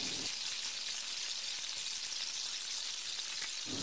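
Spices for shorshe potol frying in a pan, a loud, steady, close hiss and sizzle that holds unbroken the whole time.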